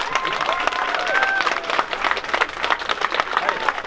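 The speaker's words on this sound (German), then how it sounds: "Tosender Applaus!" A crowd at a hospital workers' strike gathering breaks into applause, a busy patter of many hands mixed with voices and a few whistle-like calls, fairly close and fluctuating in intensity.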